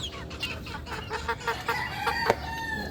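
Young backyard chickens, kept hydrated in very hot weather, cluck and squawk in quick, overlapping bursts close by, with no voices.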